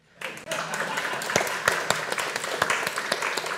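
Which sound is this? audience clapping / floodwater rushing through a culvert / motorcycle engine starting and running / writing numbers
audience clapping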